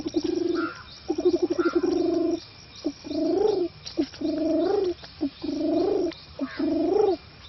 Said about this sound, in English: Spotted dove, it will make a call like this.